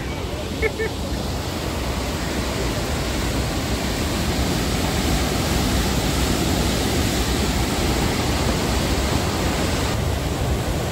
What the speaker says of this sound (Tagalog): Dito may falls pa dito na mababa ulit